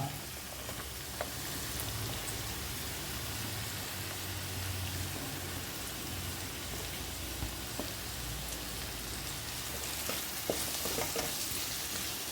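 Onion and capsicum sauté over a high flame for chilli chicken, a dense, continuous hiss of frying that sounds almost like steady rain, with a few faint clicks of stirring and no voices.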